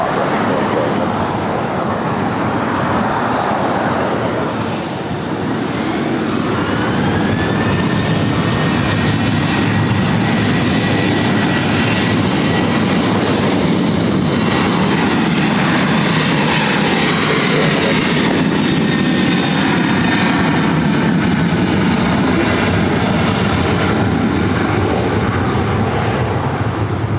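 A Delta Boeing 737-900ER jet takes off at LAX with a loud continuous engine roar that swells and holds for the whole stretch, the hiss and whine of the jet filling the air near the runway.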